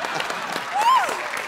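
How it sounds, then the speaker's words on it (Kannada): A studio audience on a TV game show claps, a short burst of applause with a host's voice speaking over it. "ಜೋರಾಗಿ ಚಪ್ಪಾಳೆ"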